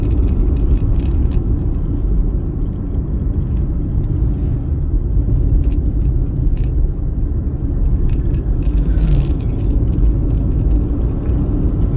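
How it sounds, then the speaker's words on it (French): A Dacia Spring electric car drives along a small road, giving a steady, loud low rumble of road and tyre noise with faint whirring on top. "la voiture réagit très bien sur des petites routes comme celle-ci."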